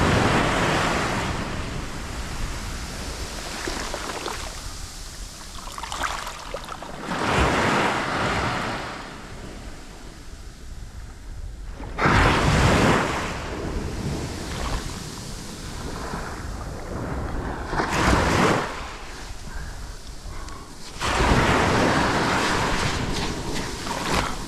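Ocean surf on a beach, waves surging and washing up the sand in several loud, broad rushes a few seconds apart, with wind buffeting the microphone between them.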